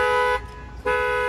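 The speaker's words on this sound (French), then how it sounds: "Big K qui fait péter l'alarme." A car alarm blares at close range with a steady, loud tonal wail, cutting out for about half a second before resuming just as loud.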